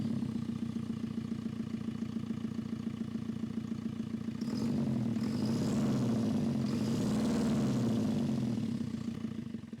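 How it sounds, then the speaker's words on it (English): A JCB 4.4 industrial diesel engine fitted in a Land Rover Defender runs steadily with a throaty, pulsing idle, then rises into a louder, fuller rev for a few seconds before settling back, close and alone with no talking. "There's certainly no mistaking that JCB engine sound, is there?"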